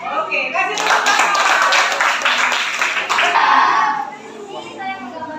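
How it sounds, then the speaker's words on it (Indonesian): A classroom of children claps for finished handicraft work, dense lively clapping for about four seconds with children's voices mixed in, then fading out. "kasih tepuk tangan"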